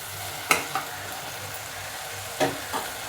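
Spinach rice and onions sauté in a pan with a steady, quiet sizzle, broken by two pairs of sharp spatula clinks and scrapes as the mix is stirred.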